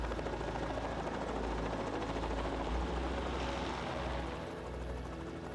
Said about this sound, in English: the Mara Elephant Project's helicopter is often used to drive herds out of